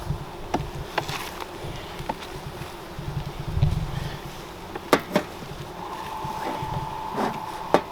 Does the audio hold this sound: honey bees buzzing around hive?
yes